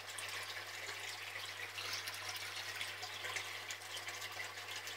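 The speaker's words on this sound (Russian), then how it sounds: "аэрация идет в полном объеме" Aeration water bubbling in shallow fish spawning tanks for comet goldfish, a steady, soft hiss and burble of bubbles with a constant low hum beneath, continuous and fairly quiet without voices.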